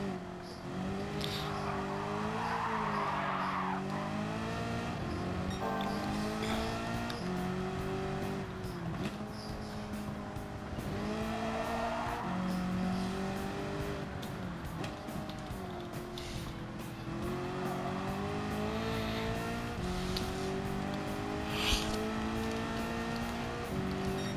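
A race car laps a circuit in Gran Turismo 7, its engine droning loud and steady throughout, pitch rising and falling through gear changes and corners, with brief tire squeals.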